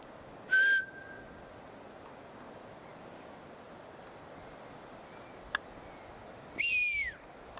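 Two short, loud whistled notes about six seconds apart, each a bright tone that slides downward, heard alone over a steady wash of wind-like background noise.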